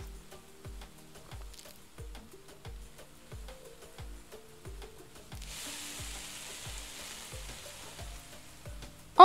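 Onions sizzle and fry in a pan in the cooking video game Venba, with a steady crackle under a repeating soft rhythmic tapping and a brief louder burst at the very end.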